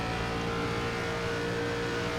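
Stock car engine roaring steadily in an iRacing ARCA Menards Series race at Chicagoland, a loud continuous drone that holds throughout without clear revving.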